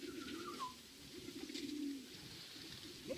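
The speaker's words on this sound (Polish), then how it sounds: "Bo tu lecą nade mną gołębie" Pigeons coo softly nearby while flying overhead, a low, throaty murmur with a faint higher call above it.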